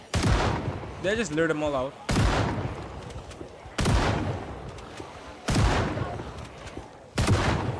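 Shotgun blasts in Project Zomboid at a prison, four loud sharp shots spaced about every two seconds, each with a decaying tail, while someone speaks between them.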